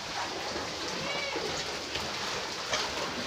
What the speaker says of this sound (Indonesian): Hujan lumayan deras dari pukul 4 sore tadi.